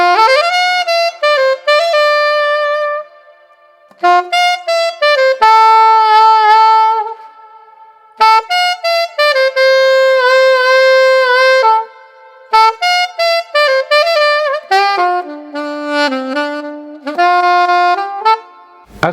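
Alto saxophone plays a melody line, bright sustained notes in phrased runs with a glissando on the opening line, loud and close, played solo with short pauses between phrases.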